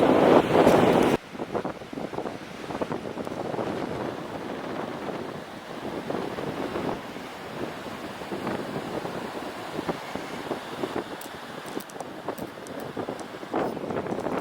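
Strong outdoor wind buffets a microphone, opening with a loud rumbling blast for about a second, then settling into a steady rushing roar with irregular gusty thumps, and no one talking.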